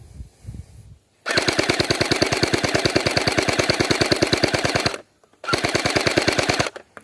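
A toy gun fires long bursts in full auto, a rapid, even stream of sharp pops running for several seconds, breaking off briefly and then starting again, loud and close with no talk over it.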